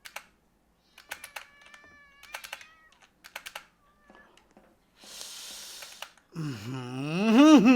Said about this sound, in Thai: แหมใส่เสียงแมวซะด้วย